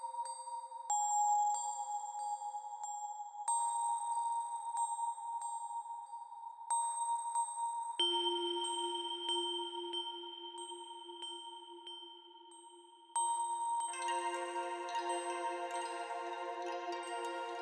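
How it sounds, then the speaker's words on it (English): Synthesized bell tones ring out in sustained, layered chimes through a clock-synced Chronoblob reverb, the pitches shifting in steps and thickening into a dense shimmering cluster toward the end, with no voices. "there is a chronoblob reverb that's clock synced that we used on the bells"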